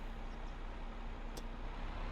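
A tractor engine drives in the farming game Farming Simulator 25, giving a steady, even engine drone with a low hum throughout and no voices.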